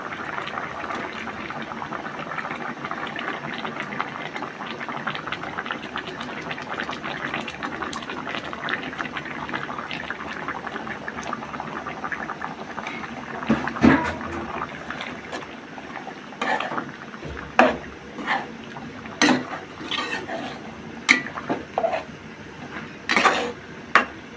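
Catfish added to a hot pan for a potato curry sizzle quietly under a steady frying hiss, joined later by scattered clinks and scrapes of a utensil against the pan.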